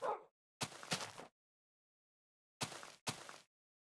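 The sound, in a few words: dog barking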